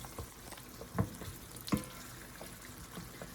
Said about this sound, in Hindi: ये प्याज मैं कर रही हूँ फ्राई